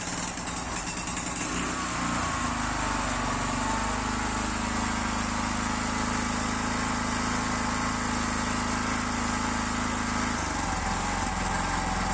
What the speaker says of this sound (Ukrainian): Залила бензин і масло, тепер заводю.